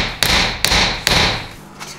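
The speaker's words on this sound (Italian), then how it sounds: "Lo riduco manualmente con il martello." A hand hammer strikes a silver ingot to flatten it, three loud, sharp blows about half a second apart, each ringing briefly, followed by a fainter tap.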